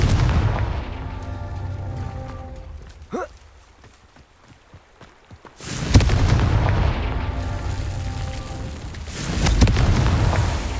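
Confringo explosive spells cast in the Hogwarts Legacy video game, heard as two loud, broadband blasts with rumbling tails, preceded by a sharp crack and scattered combat effects over a low musical bed.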